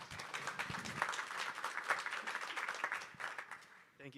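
An audience claps to welcome a speaker onto an open-source RISC-V ecosystem panel at a tech conference in Silicon Valley. The dense, continuous clapping runs for several seconds, then thins and fades near the end.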